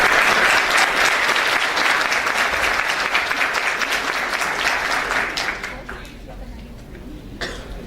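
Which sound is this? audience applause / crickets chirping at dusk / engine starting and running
audience applause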